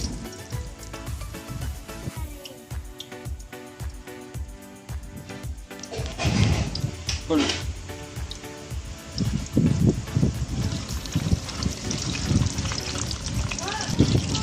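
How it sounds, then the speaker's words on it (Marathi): Vada dropped into hot oil over a wood-fired chulha, frying with a bubbling sizzle that grows louder and denser partway through, with some clatter as they go in. "वडे आता तेलात टाकत आहे."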